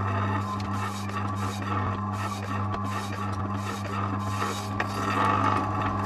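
A meat slicer cuts bacon with a steady rasping scrape as the meat slides across the spinning blade, close and continuous over the motor's constant low hum, with repeated strokes for each slice.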